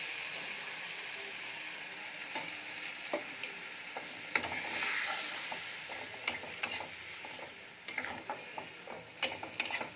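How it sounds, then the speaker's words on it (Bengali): A turmeric and cumin paste mixed with water goes into onion and tomato frying in a pan, giving a soft steady sizzle broken by sharp clicks and scrapes of stirring, with no talking. "এখানে হলুদ আর জিরের গুঁড়োটাকে জল দিয়ে একটা ঘোল বানিয়ে রেখেছিলাম, এবার এটা দিয়ে দেব।"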